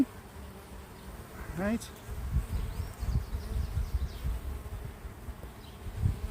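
Honeybees buzzing softly around an open mini urban hive during an inspection, a low continuous drone with individual bees passing close by, one brief word spoken over it.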